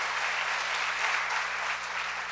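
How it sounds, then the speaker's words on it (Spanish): A congregation applauding during a church sermon, a steady, even wash of many hands clapping throughout, with no voices rising above it. "dale ese aplauso"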